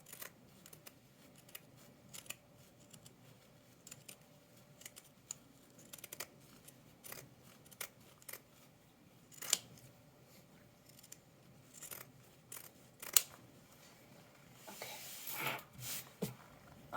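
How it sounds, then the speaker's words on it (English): Scissors trimming around a punch needle fabric piece for a coffee sleeve, faint scattered close snips and small clicks with quiet gaps, growing into a brief rustling burst near the end. "after you've cut around your piece, you still have your open side"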